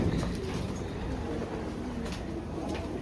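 Pigeons or doves coo softly and repeatedly indoors over a steady background hum, with no voices heard.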